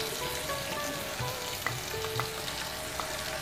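Vegetables and green peas frying in oil in a wok for pulao, a steady close sizzle with occasional stirring clicks and spatters, no talking.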